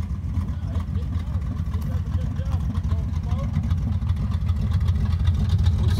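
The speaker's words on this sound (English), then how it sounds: "Well, at least it idles." The small-block engine of a 1966 Chevrolet Chevelle sedan idles steadily with a low, even rumble, close by, while someone talks over it.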